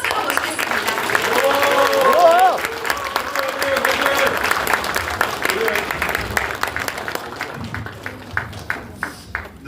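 At a Democratic Party committee launch ceremony in the Jeju Chamber of Commerce, a room of people claps loudly as a member of parliament is welcomed, with voices calling out over it, before the applause tapers to a few sharp single claps.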